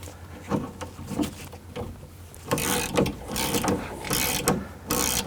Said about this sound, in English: with a 10mm socket and ratchet